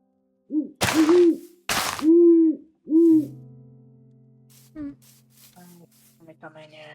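Owl hooting in the Minecraft All the Mods 10 modpack: three loud, wavering hoots with sharp thumps between them, followed by quieter game noises and brief speech near the end.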